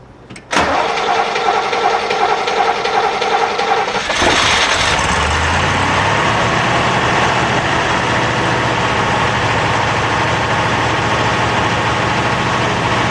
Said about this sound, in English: So when you go to start it up, you'll hear it slow down after it initially starts